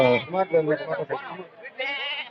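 Young goat kids loaded into a vehicle after a Friday livestock market sale bleat in a continuous wavering chorus, loud and close, several overlapping cries with no pause.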